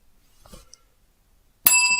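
A bell rings once near the end, a bright, sharp metallic ding outdoors in cold weather, preceded by faint rustling and a soft click in otherwise near silence.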